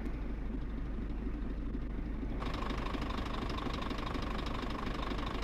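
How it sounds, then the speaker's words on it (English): A Scania truck engine idles as heard from inside the cab in the video game On The Road, giving a low, steady rumble with a muffled start that opens up brighter partway through, with no voices. "So this is what it sounds like when you're in the cab."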